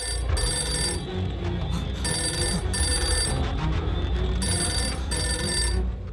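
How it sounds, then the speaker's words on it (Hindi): A telephone bell rings loudly in repeated bursts with short pauses between them, over a busy background. "इसकी तो फिर से फोन बज गया।"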